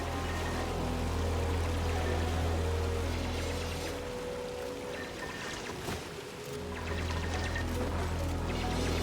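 Water pours steadily from an emptied storage container in the Oxygen Not Included video game, a continuous rushing splash with a low hum beneath, dipping briefly near the middle before resuming at full strength.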